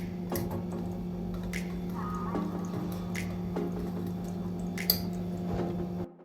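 Brown bread batter is mixed gently by hand, making soft, wet squishing and slapping sounds. They come quietly and close over a steady low background hum, with a few sharper splats.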